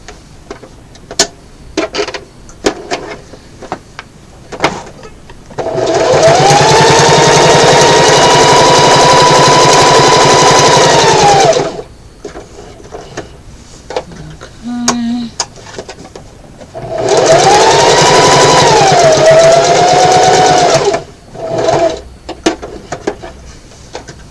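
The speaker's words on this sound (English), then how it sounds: "So now what we want to do is just sew all the way around a top stitch" Home sewing machine top-stitching around the edge of a small fabric pocket, running in two sustained bursts of fast, steady whirring with quiet handling clicks between them.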